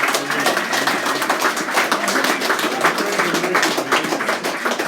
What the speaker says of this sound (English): I think we should give them all a big round of applause,